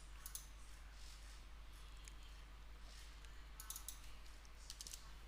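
A computer mouse clicks faintly a few times while someone operates power-grid coordination software, the sparse, light clicks sitting over a quiet, steady hum.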